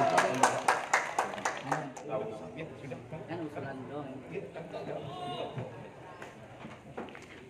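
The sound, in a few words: audience applause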